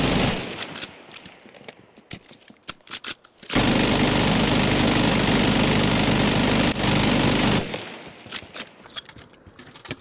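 PKM machine gun with a 200-round drum firing in Call of Duty Modern Warfare: scattered shots, then a long unbroken loud burst of several seconds, followed by more scattered fire.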